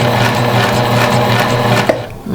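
A fast Juki TL-2000Qi sewing machine runs loud and close while sewing back stitches, giving a steady, rapid mechanical whir that cuts off abruptly near the end.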